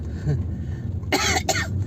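Two quick, harsh coughs close by, one after the other, following a moment of quiet room noise.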